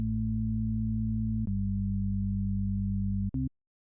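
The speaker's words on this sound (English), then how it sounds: "at the moment, they are sine waves, which are the softest sounding wave shape" Pure sine-wave tones from a free oscillator synth in FL Studio, a steady sustained low chord held alone, shifting once with a click at about 1.5 seconds, then a brief change before cutting off abruptly.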